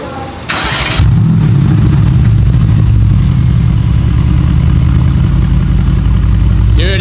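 A vehicle engine cranks with a short starter whine, catches and settles into a loud, close, rough idle that holds steady to the end.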